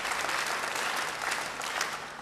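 A church congregation breaks into brief, even applause during a sermon, the clapping moderately loud and continuous, with no voices audible.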